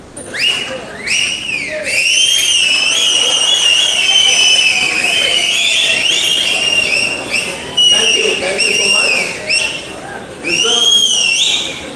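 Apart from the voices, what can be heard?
audience members whistling in a lecture hall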